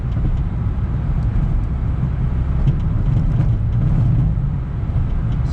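A Smart Fortwo diesel with a turbo, boost pinned at full throttle, sends out a steady, loud low engine drone with road rumble that holds constant from start to finish, with no speech over it.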